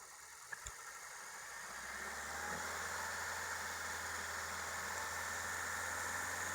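A 2013 Hyundai i20 Sportz engine idles quietly and evenly, a low steady hum that starts up and settles after a couple of faint clicks, with no voices over it.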